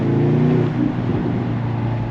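A 2025 BMW XM SUV revving with a few light exhaust pops, steady engine drone and low rumble throughout, heard from close by through an open window.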